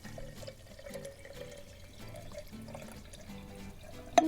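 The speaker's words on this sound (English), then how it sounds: "I want to pour some water in so that it goes approximately halfway up the jar" Water poured from a container into a glass sprouting jar for growing radish sprouts, a soft, steady close trickle running without pause for a few seconds.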